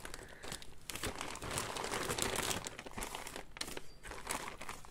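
Steady crinkling and crackling of bubble wrap packaging handled up close, continuous with brief pauses, no voices.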